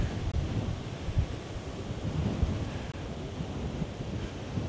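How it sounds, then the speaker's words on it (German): Strong wind blowing across the water at Sint-Annaland in the Netherlands on a stormy afternoon, with surf washing and wind buffeting the microphone in a steady, dense roar with no distinct whistle. "von diesen ganzen Masten, wo der Wind hier durchpfeift"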